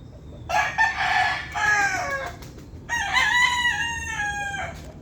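Two loud rooster crows ring out close by, one after the other, with a faint farmyard background between them.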